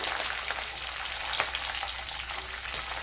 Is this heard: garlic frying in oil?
yes